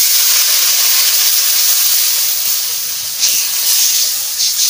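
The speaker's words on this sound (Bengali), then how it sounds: "আমি জল দিয়ে দিচ্ছি।" Water is poured into a hot pan for a greens and fish curry and sets off a loud, continuous hiss of steam that fades slightly, then flares again near the end.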